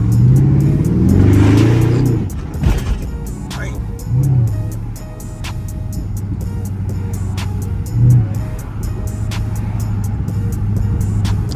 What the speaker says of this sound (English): Hear the pipes and all that.